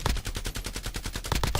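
Rapid automatic gunfire in Warzone, a fast burst of close, loud shots in steady succession with a few heavier reports near the end, no talk over it.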